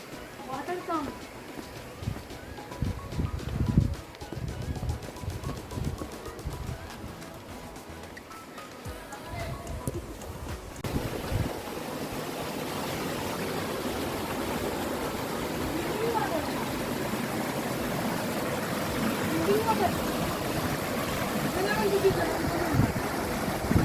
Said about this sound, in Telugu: Water sound.